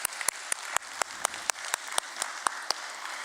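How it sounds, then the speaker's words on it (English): Applause at a stock exchange listing ceremony at the Bombay Stock Exchange: steady clapping from a modest crowd, fairly close, with distinct claps standing out in a regular rhythm and no talking. "Can we start with a big round of applause?"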